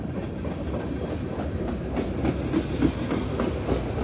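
CSX freight train Q648, led by locomotive 3194, rolls north past Mortons, its railcars clattering with steady, loud clickety-clack wheel beats close by throughout.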